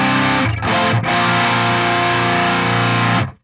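Heavily distorted electric guitar chords ring out loud and sustained, with two quick breaks before the chords stop.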